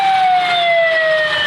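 An ambulance siren wails loud and close, stuck in the Bhati Chowk traffic of Lahore, its steady, slowly falling tones filling the whole moment without any voices.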